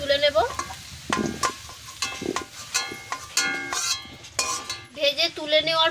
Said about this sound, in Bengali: ভালো করে নেড়ে দিয়ে কিছুক্ষণ সময় নিয়ে ওলকপি আলু ভেজে নেব।